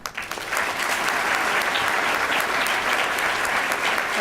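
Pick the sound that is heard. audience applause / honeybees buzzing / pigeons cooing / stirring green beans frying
audience applause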